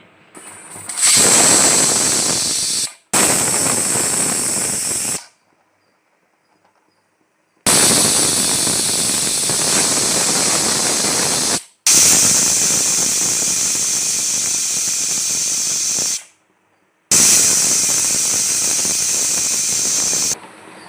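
Loud, shrill pressure cooker whistles blast in long bursts with hissing steam, broken by short silent gaps; five separate whistles sound one after another, close up.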